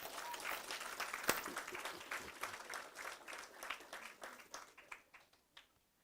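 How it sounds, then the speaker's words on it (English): Audience applause for students at a reading competition, a dense wash of clapping that holds steady, then thins and fades out toward the end. "Let's applaud them, please."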